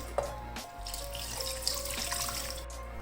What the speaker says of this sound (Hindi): और इसके अंदर मैं डाल दूँगी तकरीबन 2 गिलास के जितना पानी।